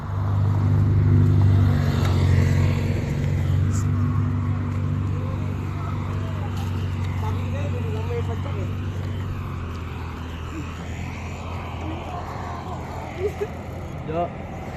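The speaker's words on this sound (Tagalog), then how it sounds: "Sasakyan, sasakyan." Car passing along a road, a rumbling engine that is loudest at the start and fades gradually as it moves away, with faint voices in the background.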